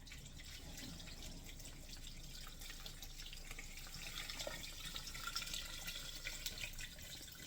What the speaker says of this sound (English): my pitcher of water